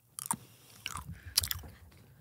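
Close, wet chewing of a liver-and-onions flavoured jelly bean, with soft biting crunches and squelchy mastication in uneven bursts, moderately loud, with no talking.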